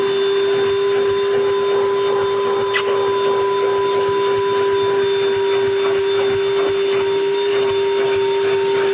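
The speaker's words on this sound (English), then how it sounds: "So let's get this vacuuming on the way." A Ryobi 18V cordless project vacuum with a crevice tool drones steadily and loudly with a constant high whine, running without pause for the whole stretch.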